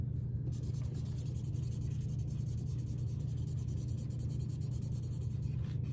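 Steady scratchy rubbing of a crayon or marker colouring a paper leaf green, continuous and close, with a low background hum and no speech.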